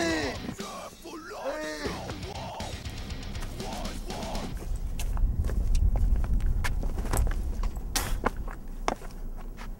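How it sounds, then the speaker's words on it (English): Footsteps thud and patter in a steady run of quick impacts over a rumbling game soundscape, after shouting voices at the start. "I hear his footsteps"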